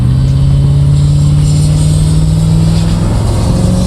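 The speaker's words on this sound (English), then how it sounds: "Once I get onto the straight line, I'm going to give it gas." A 1974 Corvette Stingray accelerates at full throttle, a loud, steady engine roar close up with a rising tone throughout, heard alone without talk.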